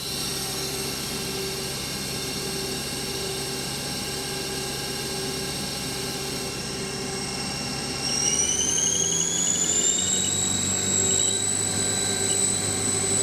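A 2017 Haas ST-15 CNC lathe spindle spins at 2,000 RPM, a steady machine hum with high whining tones that rise and settle as it speeds up, loud and close with no talk.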